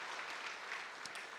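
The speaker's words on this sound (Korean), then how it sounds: "우리 박수 한번 해드릴까요?" Congregation clapping during a Korean church Sunday service, a faint, steady patter of applause heard from a distance with no voices over it.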